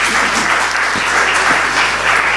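A concert audience in Radzyń Podlaski claps steadily and densely, a full, continuous wash of applause filling the room without any talking.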